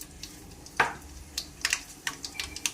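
Mustard seeds dropped into hot cooking oil for a Telugu broad bean and dry fish curry give off sparse, faint crackles and pops over a quiet sizzle, with one sharper burst near the start.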